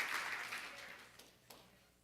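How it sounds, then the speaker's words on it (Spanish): A church congregation applauds for the Lord during a sermon, a faint, fading wash of clapping with a few sharper claps near the end. "Y dele fuerte el aplauso al Señor"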